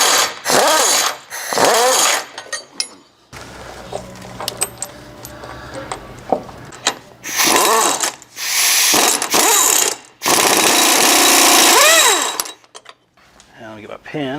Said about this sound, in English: Putting on new nuts on these, new lock nuts on these.